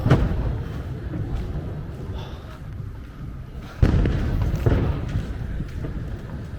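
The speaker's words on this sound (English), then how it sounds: "These fireworks are absolutely ginormous." Deep fireworks booms from a huge Chinese New Year display in Sihanoukville, Cambodia, rumble continuously with sharp cracks and bursts, one especially loud blast partway through, heavy and close.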